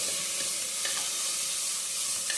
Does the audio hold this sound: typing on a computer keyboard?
no